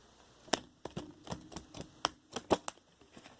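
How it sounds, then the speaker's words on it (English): A deck of oracle cards is shuffled by hand, a string of sharp irregular snaps and riffles with uneven gaps between them, close and fairly quiet. "I'm attempting to shuffle these cards."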